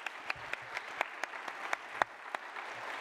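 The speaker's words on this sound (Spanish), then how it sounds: "Un aplauso para Santi, por favor." Sparse, close applause for a tortilla maker at an event, individual hand claps ringing out roughly every quarter second from a small group, fairly quiet overall.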